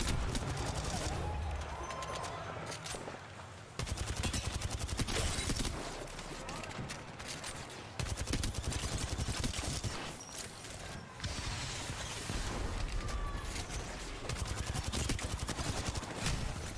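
Gunfire in the video game Apex Legends, repeated rapid bursts and crackling volleys amid noisy game action, with commentators talking over it.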